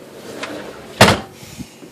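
A shelf in a GE Slate refrigerator slides out with a sharp, close clack near the middle, framed by softer faint knocks before and after in a quiet kitchen.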